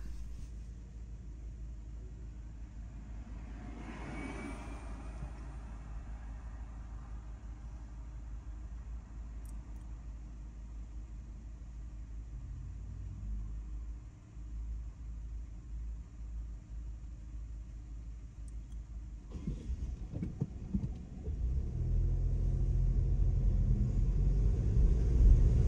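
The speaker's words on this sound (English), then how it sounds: "let's have a look at the traffic coming up towards us" Road traffic in Guernsey, a low steady rumble of cars driving past with an engine growing louder and closer toward the end, no speech.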